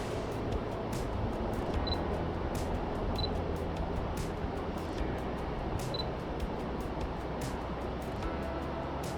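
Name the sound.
DSLR camera shutter shooting handheld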